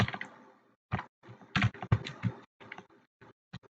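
Computer keyboard keys tapped in short irregular bursts with pauses between them, close and moderately loud while text is entered in Microsoft Word, with no one speaking over it.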